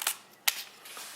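Film advance lever being worked on an Olympus OM-1 film SLR camera, giving two crisp mechanical clicks about half a second apart, then a softer ratcheting whir, close up with no talk.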